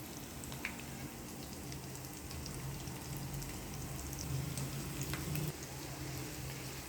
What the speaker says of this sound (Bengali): পেঁয়াজগুলো ব্রাউন করে ভেজে নেব।